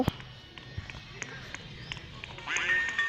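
Cartoonish duck quacks in a Roblox game pop up repeatedly over light game sounds and footstep-like taps, with a brighter, busier burst near the end.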